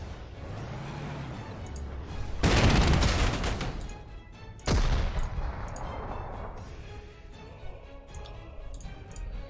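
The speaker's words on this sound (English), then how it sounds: "Okay, there goes the anti-tank gun." An anti-tank gun being destroyed in the World War II strategy game Panzer Corps 2: a loud explosive blast with a long rumbling tail, then a second sharp boom, over low background noise.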